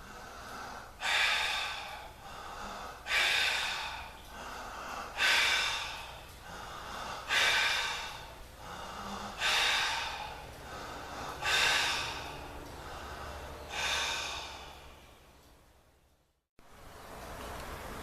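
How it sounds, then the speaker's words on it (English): Rapid, continuous open-mouth breathing by a person lying flat on their back, heard as about seven strong, evenly spaced breath bursts, close and loud, with no talking. "the warrior breath, which again is open mouth breathing, continuous, lying flat on the ground, relaxing, and filling your energy system with rapid breath"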